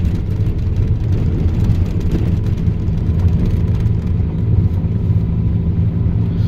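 Pontiac Fiero rolling over washboarded dirt on a canyon road beside cliffs, a steady loud low rumble of engine and rattling tires that fills the whole stretch without letup.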